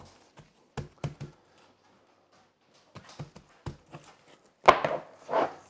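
Hands pat dry rub onto raw St. Louis pork ribs in short bursts of soft, dull slaps and taps, close by, with pauses between groups and a louder rustling pat near the end.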